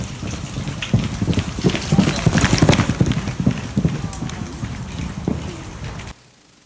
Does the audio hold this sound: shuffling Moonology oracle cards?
no